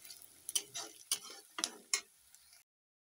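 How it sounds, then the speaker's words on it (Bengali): Spice paste being stirred and fried in a pan after cauliflower is set aside, with a series of scraping, clicking spoon strokes roughly every half second over a soft sizzle, fairly quiet, ending abruptly. "আমি এখন মশলাটাকে ভালোভাবে নাড়িয়ে চাড়িয়ে কষে নিচ্ছি"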